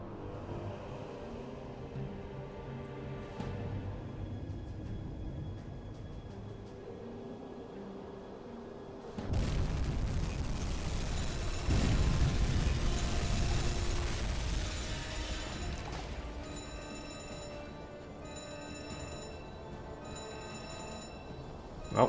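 Torpedo hits on the freighter MS Sorland in the submarine game UBOAT: a sudden loud broadband boom at about nine seconds, a heavier rumbling blast near twelve seconds, then a long fading roar over a low engine drone.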